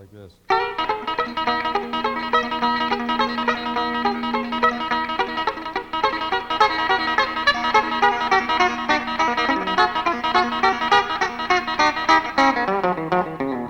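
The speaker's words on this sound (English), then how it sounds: "Another old traditional rockabilly ending chord." Electric guitar played in a traditional rockabilly style, a quick flurry of notes and pull-offs resolving into a sustained ending chord in E that rings out loud and close, then fades at the end.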